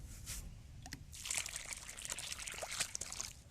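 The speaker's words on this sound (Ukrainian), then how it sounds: "заливаю це все діло водою" Water trickles and sloshes into a planting hole filled with soil mixed with wood ash and calcium nitrate, a quiet, close pour with small splashes.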